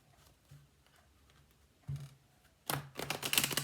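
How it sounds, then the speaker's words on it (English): Tarot cards are shuffled in a quiet room, soft scattered taps giving way to a louder rapid riffling flutter at the end. "One more shuffle."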